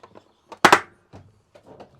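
A Milwaukee Packout storage drawer inside a vehicle storage setup slides shut with a loud, close double plastic clack, surrounded by brief quiet speech-like sounds.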